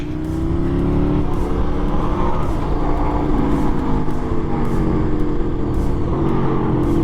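A loud motorcycle engine revs continuously with a deep, rough growl, steady and close, with no voices.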